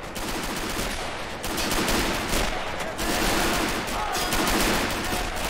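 A half-track's machine gun firing in the World War II strategy game Men of War: Assault Squad 2, set near Moscow in 1941: sustained loud bursts of rapid gunfire with short pauses, mixed with battle noise.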